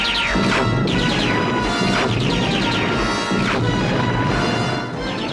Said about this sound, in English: They're firing on us. It's a Decepticon ambush.